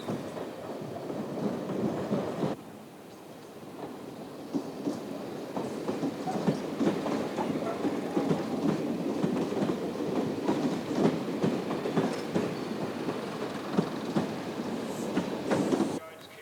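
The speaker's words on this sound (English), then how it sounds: "Waverley Station, set below street level, is a busy interchange for rail routes both north and south." A train at Edinburgh Waverley Station, set below street level, rumbles steadily with clattering wheels, a continuous mid-loud rolling roar under narration.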